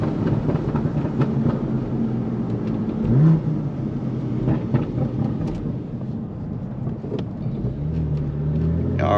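BMW M4 fitted with a titanium exhaust, its engine running with a steady low rumble and a few brief throttle blips and burbles, close and fairly loud throughout.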